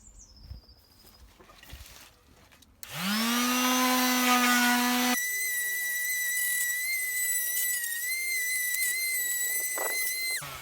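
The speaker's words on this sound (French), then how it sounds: "Allez, c'est parti, je ponce." A power sander works on the painted frame of a Motobecane N40 T moped during renovation, starting after a quiet stretch with a loud whining spin-up that settles into a steady, high, whistling drone and continues to the end.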